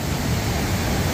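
The 77-metre Cachoeira do Urubu waterfall in Primavera, Pernambuco, swollen after heavy rains, gives a loud, continuous broadband roar of falling water with no voices.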